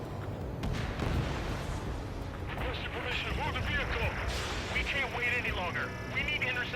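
Anti-aircraft gunfire in the Ace Combat 7 flight game, repeated booming bursts under radio chatter and a rumbling battle backdrop, with voices talking throughout.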